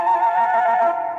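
A single horse gives one sustained, loud whinny lasting about a second, close and alone, in a radio drama setting.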